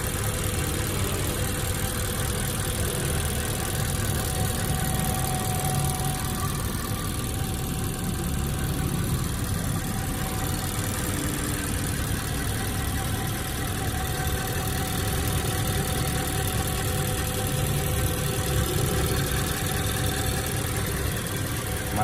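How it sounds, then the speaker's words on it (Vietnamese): A 2016 Mazda 3 with its original engine idles smoothly, a steady low mechanical hum with faint ticking that stays constant throughout, heard close up with no talking. "Máy nổ cực êm luôn."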